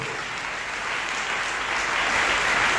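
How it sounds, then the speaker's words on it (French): A church service congregation bursts into sustained, dense applause that grows slightly louder, heard alone without speech. "Applaudissez mon Dieu pour la vie."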